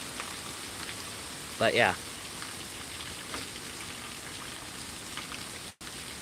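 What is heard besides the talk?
heavy rain during severe thunderstorm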